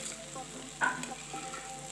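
Chana chat masala with tomato sauce sizzling quietly in a pan, a faint steady fry with one brief scrape of stirring.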